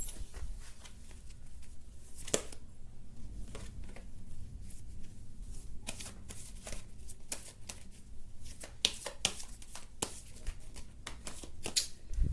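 Tarot cards shuffle up close in a quiet room, a long run of soft riffling and sharp snapping flicks at an uneven rhythm, faint overall with brief louder slaps.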